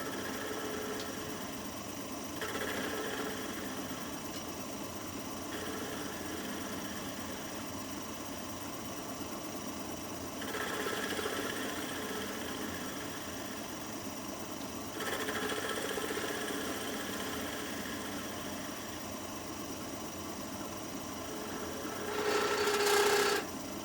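A wood lathe takes very light cuts while hollowing the cup of a goblet turned from a 2x4, giving a steady whirring drone with scraping bursts that swell at intervals and grow loudest near the end.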